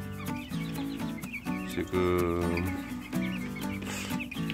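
A coop holding about three dozen Cheonggye chicks and young chickens, with overlapping peeping and clucking calls sounding continuously and fairly close, and a voice briefly heard.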